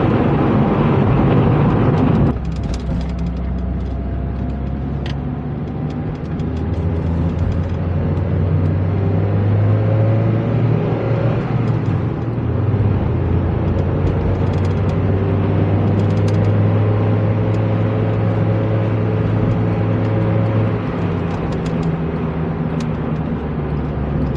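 An NB2 Mazda Miata drives along steadily, its engine droning loudly at close range with rising and falling tones as it shifts, a sudden drop early on, and road rumble underneath.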